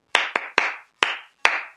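Five sharp hand claps ring out in an uneven rhythm, close and crisp with short room decay and silence between them, a single person's clapping mimicking friends applauding jokes at a comedy show.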